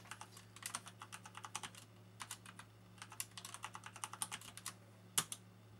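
A password is typed on a computer keyboard while setting up a home-lab server: a quiet, close sequence of irregular key taps in short bursts over a low steady hum, ending with one sharper keystroke.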